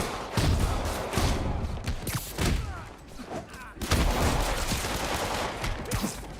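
Video game gunfire rattles in dense, loud bursts of rapid shots, close and continuous with short pauses. Impact thumps are mixed in.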